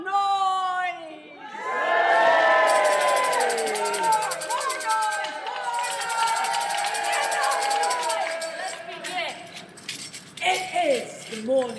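A large live audience gathered outside the Guildhall erupts into loud, sustained cheering, whooping and shouting for about ten seconds, with a brief dip before a final burst.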